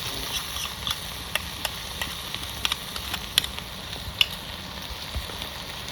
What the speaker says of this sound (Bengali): ভাজা আদা রসুনের পেস্টটা দিয়ে দিচ্ছি কাঁচা লঙ্কা একসঙ্গে সব পেস্ট করা